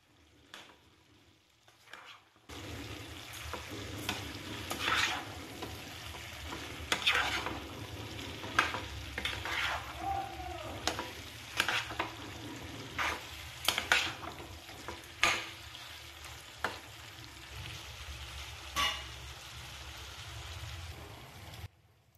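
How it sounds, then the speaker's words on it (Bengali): Hichor (jackfruit) curry with garam masala frying in a pan, stirred back and forth with scraping, knocking strokes over a continuous close sizzle after a short quiet start. "গরম মশলাটা দেওয়ার পরে ভালোভাবে নাড়িয়ে চাড়িয়ে এদিক ওদিক করে নিয়ে নেব।"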